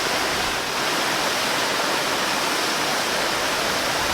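Little creek in Shiobara, Tochigi, Japan, flowing over big rocks: a close, steady rush of water that stays loud and even throughout, with no voices.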